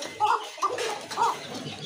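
A caged pigeon, a pair offered at a market-style pigeon farm in Rajshahi, gives a few short coos in a small space, with brief pauses between calls and soft background voices.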